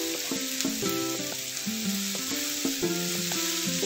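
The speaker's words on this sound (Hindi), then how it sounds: "अब हम इसमें ये चिकन और शिमला मिर्च भी ऐड कर देंगे" Chicken and capsicum stir-frying with softened onions in a pan over a medium flame, a loud close sizzle with repeated scraping strokes of the spatula in an uneven rhythm, no voices.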